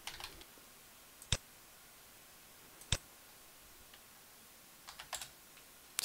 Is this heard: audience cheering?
no